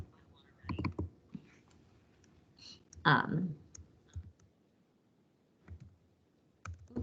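Keys are typed and a mouse is clicked on a computer while working in Canva, with short sparse bursts of taps and clicks separated by quiet gaps, close and fairly soft.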